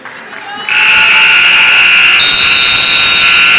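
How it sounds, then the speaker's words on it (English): A college women's basketball game-end buzzer blares loud and steady for about three seconds, its tone shifting slightly higher partway through, over faint crowd noise. "And the buzzer sounds"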